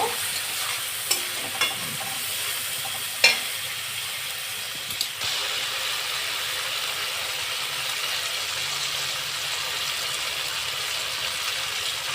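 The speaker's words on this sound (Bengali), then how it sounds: "দিয়ে আমি মশলাটাকে ভালো করে আর একটু কষিয়ে নেব" A spice masala sautéed with a spoonful of sour curd for egg-chicken biryani gives a steady, even sizzle with a few sharp spoon scrapes and clicks in the first seconds, and no talking.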